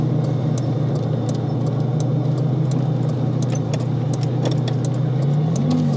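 The engine of a red 1989 Ferrari 328 GTB with a five-speed manual holds a steady, close, low hum, then rises in pitch as it pulls away in the final second.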